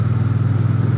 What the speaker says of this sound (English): Just the sound of this parallel twin is incredible.